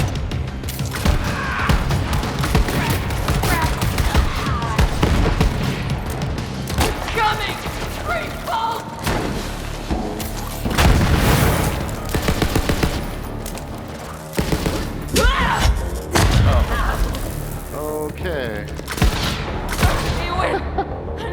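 Video game combat with explosions and gunfire: dense bursts of automatic fire, booms and mechanical clatter throughout, with speech mixed into the chaos.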